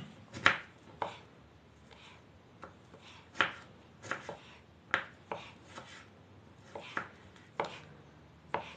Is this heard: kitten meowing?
no